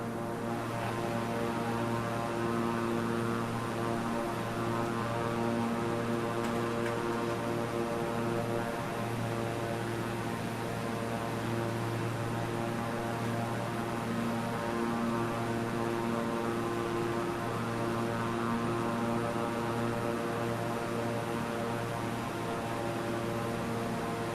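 Beechcraft propeller aircraft climbing in a flight video game, a constant droning engine hum with steady tonal layers, unbroken and even throughout with no talking.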